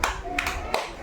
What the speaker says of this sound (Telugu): ఎవరిది ఫస్ట్ అయిపోతే వాళ్ళు క్లాప్స్ కొట్టండి